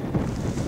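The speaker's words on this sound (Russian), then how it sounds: "Бляха, ветер." Wind buffeting an outdoor microphone during a metal-detecting dig, a steady low rumbling roar that fills the whole moment with no pauses.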